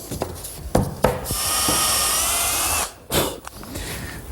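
A power drill drives screws to attach a wooden cleat on a kitchen island cabinet: a sustained whirring buzz of about a second and a half, framed by close knocks and handling bumps, with no talking.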